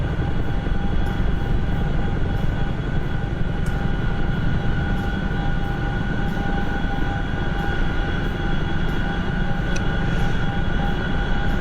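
A small aircraft on landing approach over a runway, heard from inside as a steady, loud engine drone with constant tonal hum and airflow rumble throughout, no talking.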